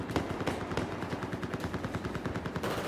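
Battlefield 4 team deathmatch gunfire: rapid, evenly spaced automatic shots rattling in a loud continuous burst with no talk.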